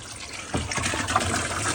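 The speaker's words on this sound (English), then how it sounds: "Right now I'm filling it up with some water" Water pours steadily into a freeze-proof livestock waterer, a continuous close gushing and trickling fill that swells slightly partway through, with no talk.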